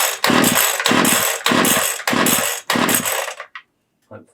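An old two-stroke hedge trimmer, unused for seven years, is pull-started repeatedly; five loud, close bursts of rasping engine noise each cut out after about half a second, followed by brief faint clatter.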